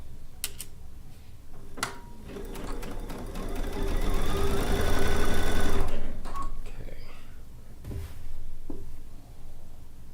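A sewing machine stitching down a quilt row, running in a steady rapid mechanical whir that builds and holds for several seconds, with clicks and handling noises before and after.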